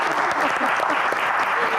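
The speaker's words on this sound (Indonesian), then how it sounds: "Tepuk tangan silakan" Indonesian audience applauding at a Q&A event, a steady dense patter of many hands clapping throughout, fairly close and full, with no speech over it.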